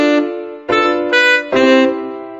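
A saxophone sample from a Mickey Mouse Clubhouse musical maze game plays a short, loud, reedy melodic phrase of a few sustained notes, alone without talk.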